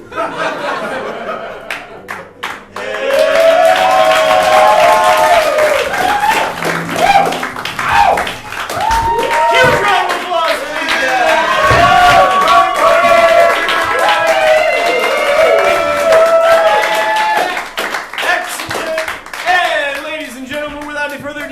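An audience at a summer intensive stage showcase claps steadily for a long stretch, mixed with scattered laughter and crowd murmur, with music-like tones ringing underneath.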